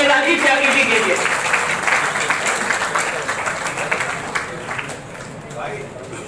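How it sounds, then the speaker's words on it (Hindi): A seminar audience at an environment event bursts into sustained applause, a dense wash of clapping that stays loud for several seconds before gradually thinning toward the end. "जोरदार तालियां हमारे राजीव त्यागी जी के लिए"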